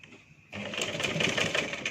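A domestic sewing machine backstitching to secure the end of a seam starts abruptly after a brief quiet moment and then runs as a fast, steady mechanical whir and clatter at close range.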